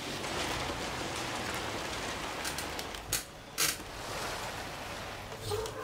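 Rain in the Forza Horizon 3 racing game during a gymkhana attempt in a Reliant Supervan, a steady, dense hiss of rainfall on surfaces with a few brief sharper bursts near the middle.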